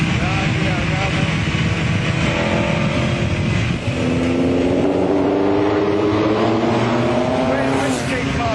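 Formula One car onboard at Donington Park with a driver at the wheel, its engine loud and close, droning steadily and then pulling up through rising revs, with someone talking over it.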